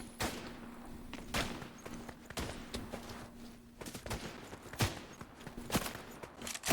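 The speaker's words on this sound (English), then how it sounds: "Oh, they're shooting at me, aren't they?" Gunfire in Fortnite comes as scattered single shots and short bursts, some close and sharp, others more distant, over faint game background noise.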